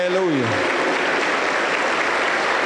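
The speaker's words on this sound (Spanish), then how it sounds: "Aplauso para el Señor Jesús." A church congregation applauds loudly and steadily through a worship service, with a brief sung or spoken voice at the start over the dense clapping.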